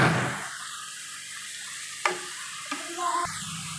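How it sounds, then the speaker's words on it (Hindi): Onions frying in a pan, a steady close sizzle with a few stirring clinks and scrapes near the end. "इसको थोड़ा सा और फ्राई कर लेंगे।"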